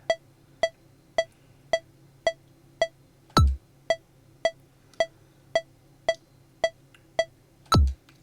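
Regular electronic beeps from the video game Rhythm Heaven Fever tick at an even pace, with two louder, sharper higher-pitched tones standing out among them; no talking.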